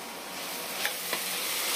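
Cooked papaya palya is stirred in a frying pan, a steady soft sizzle with two faint scrapes of the spoon, close and continuous, with no talking.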